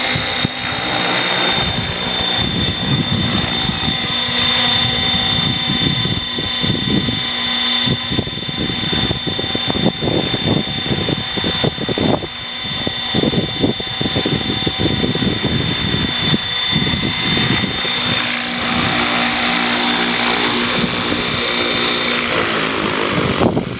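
A Gaui X5 radio-controlled helicopter flies close by, its rotor and motor whining loud and steady while the pitch and beat shift as it maneuvers, with no one speaking.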